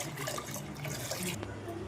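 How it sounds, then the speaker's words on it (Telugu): Water pours into a pot for mutton bone soup in a home kitchen, a soft, steady splashing stream heard faintly throughout. "2 గ్లాసులు వాటర్ పోసుకోండి."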